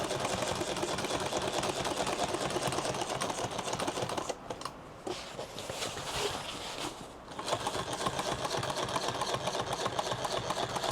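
A sewing machine stitches a duffle bag in fast, continuous rattling bursts, pausing briefly midway before resuming, close and steady.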